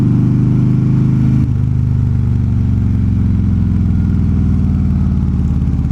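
Motorcycles on a ride give a loud, steady engine drone up close, its low hum shifting once briefly early on, then carrying on evenly, no voices.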